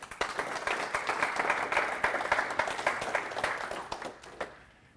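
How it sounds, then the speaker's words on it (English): An audience applauds a U.S. Hockey Hall of Fame player and Olympic silver medalist at a talk, a close, dense burst of clapping that swells and then fades out near the end. "Let's give him a round of applause."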